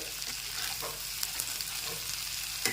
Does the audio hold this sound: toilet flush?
no